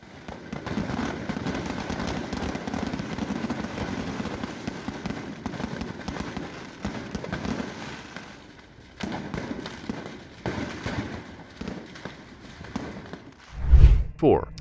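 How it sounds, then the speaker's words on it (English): Dense, continuous crackling and popping of fireworks going off in Italy, ending in a deep, loud boom. "And these were some firework fails in Adelphi,"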